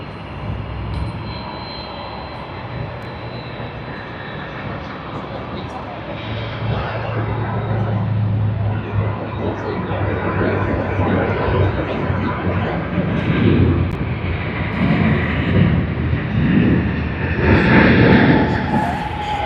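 An Air Canada Boeing 777-200 bound for Vancouver takes off at Sydney Airport, a loud jet roar building steadily as a commentator speaks over it.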